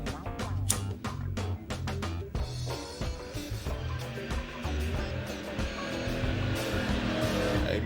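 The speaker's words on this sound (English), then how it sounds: "Man, I know y'all heard that engine revving." A car engine revving outdoors, a fairly loud rising and falling roar with rapid clicks and knocks early on, then a steadier drone toward the end.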